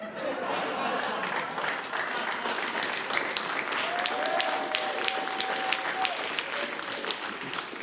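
A studio audience at a comedy show breaks into sustained applause, a dense wash of clapping with scattered chuckles and crowd chatter, steady and fairly loud from start to finish.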